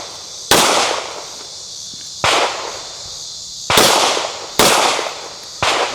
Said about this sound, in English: Let's get back into some shooting.